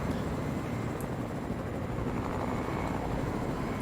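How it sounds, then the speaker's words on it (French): A helicopter in the Fortnite video game flies with a constant, loud, dense rotor-and-engine roar that stays even throughout, with no talk over it. "j'ai 1000 PV avec l'hélico"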